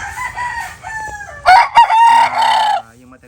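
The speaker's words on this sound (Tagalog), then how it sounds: "stag bigay sa atin ni Boss Inko na galing sa Boso-Boso Antipolo City" A young gamecock stag, a street comb lemon bloodline rooster, crows loudly and close by in one strained, wavering call after a few softer clucking notes.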